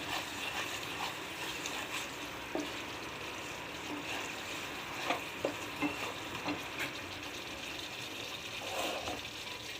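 Spice masala for a prawn malai curry fries in a pan with an even, moderate sizzle. Occasional light taps and scrapes of stirring stand out now and then above the sizzle.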